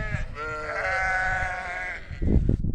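Lambs bleat loudly and close at a sheep and lamb pen in Konya, one long wavering cry running for about two seconds, followed by rustling and shuffling noise from the livestock.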